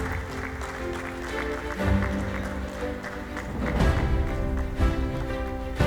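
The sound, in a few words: audience applause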